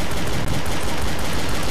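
Sustained automatic gunfire in a Source engine co-op video game, a loud, dense, continuous barrage of rapid shots that fills the whole moment with no pause or voices.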